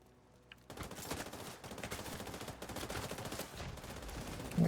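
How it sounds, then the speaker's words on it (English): Video game gunfire rattles in a dense, continuous burst of rapid shots after a quiet opening, loud and sustained to the end with no talk over it. "Why you shoot me?"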